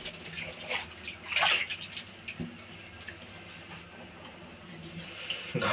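Water pours and splashes steadily while a cat is given a bath, a close, wet running sound with a louder surge of splashing partway through.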